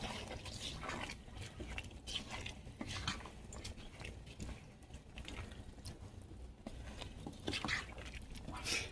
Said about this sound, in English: Now I'm going to put the rice inside. Here's my washed rice in the pot. Stir it up.